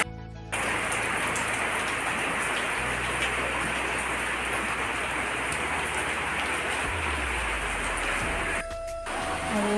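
Steady heavy rain falling outdoors from morning with wind, a dense, continuous hiss of drops on surfaces, loud and close, with no speech.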